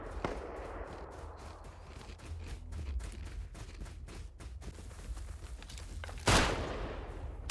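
Gunfire in the video game Rust: a long series of rapid, evenly spaced shots at moderate distance over a low background rumble, ending with a louder, sharper blast near the end.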